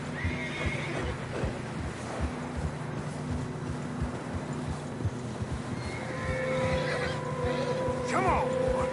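Horses trudging through fresh snow in Red Dead Redemption 2, with a steady muffled clip-clop of hooves and a loud whinny rising near the end, over a low ambient background.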